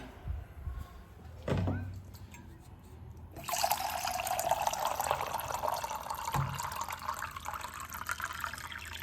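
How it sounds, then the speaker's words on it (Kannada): A short clatter, then a steady pour of water into a pot starts and runs on for several seconds, fairly close. "ಸ್ವಲ್ಪ ನೀರನ್ನ ಹಾಕ್ಕೊತೀನಿ"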